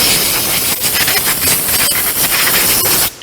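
Compressed air blown steadily onto freshly cleaned Jeep JK brake parts, a loud, continuous broadband rush held for about three seconds before cutting off.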